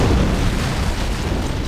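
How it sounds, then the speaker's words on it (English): An antimatter charge explodes aboard a ship in the video game Halo, a steady low, heavy rumbling roar that holds loud and dense throughout, with no separate impacts. "I'd guess an antimatter charge"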